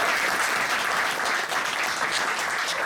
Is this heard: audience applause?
yes